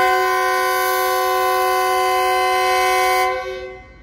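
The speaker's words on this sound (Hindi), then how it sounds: "GU20-4557 की क़ियादत में फरीद एक्सप्रेस डिपार्चर कर रही है लाहौर से" A GU20 diesel locomotive hauling the Farid Express departing Lahore sounds a long, loud, steady multi-tone horn blast lasting about three seconds, then cuts off with a short fading tail; no talk.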